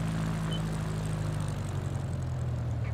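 A propeller airplane engine in Microsoft Flight Simulator 2020 on landing approach, a steady low droning hum with a throbbing prop beat, constant and moderately loud.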